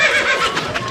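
A single horse neighs in a comic village scene, a loud close whinny that wavers and trails off over about a second, heard alone without speech.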